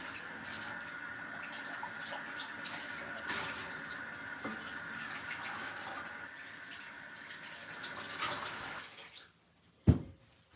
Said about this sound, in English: I need to wash this bowl really quick